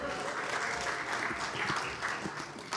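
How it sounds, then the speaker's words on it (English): Crowd applause at a Christmas show in Tulsa, Oklahoma: a steady, full wash of clapping from a sizable audience, with faint murmurs of voices mixed in. "Give yourselves a round of applause for coming out"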